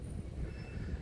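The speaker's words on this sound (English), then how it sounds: "This is the N train tracks, which are under the overpass of Avenue U." A New York subway N train runs on the tracks under the Avenue U overpass, giving a brief, continuous low rumble of rail noise with a faint metallic wheel squeal above it.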